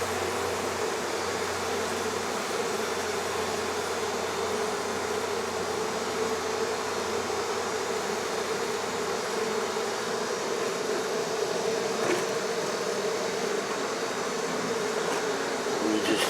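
Honey bees buzz steadily inside a wall during a humane removal in Central Florida, a dense, continuous close hum whose pitch has shifted slightly, with no talking over it.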